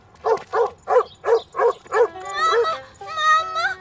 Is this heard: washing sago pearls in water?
no